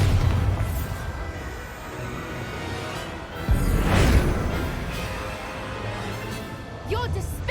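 A Bombarda spell goes off in Hogwarts Legacy, a loud booming blast with a whooshing burst midway through a busy stretch of game sounds and excited voices talking over it.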